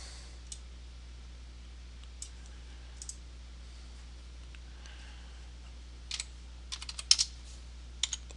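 Keys clatter on a computer keyboard while a CD key is entered during a Windows NT installation: sparse single taps, then a quicker burst of clicks near the end, close and fairly quiet.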